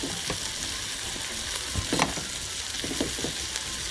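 Chilies frying in a pan as the base for a Nepalese-style chicken curry, giving a steady, close sizzle with a few soft stirring clicks and no talking.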